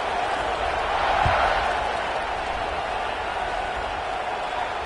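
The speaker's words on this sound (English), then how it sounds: "this crowd is buzzing after that last score" A football stadium crowd after a score keeps up a steady, broad roar, a dense distant buzz that holds evenly throughout.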